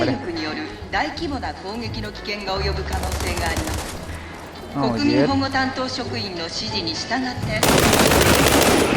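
Rapid machine-gun and rifle fire crackles through a World War 3 video game match, bursts of shots mixed under continuous excited voices talking over them, with a loud burst near the end.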